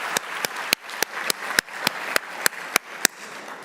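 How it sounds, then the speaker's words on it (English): An audience at a legislators' annual meeting claps in a steady, even rhythm of about three sharp claps per second. The claps are distinct and moderately close, over a faint room murmur. "Give God that hand clap."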